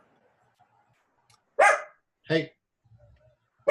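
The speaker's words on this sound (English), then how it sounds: "I didn't realize my dog got into my bedroom" A dog barks twice in a bedroom, two sharp separate barks with a short pause between them, and a person speaks briefly before them.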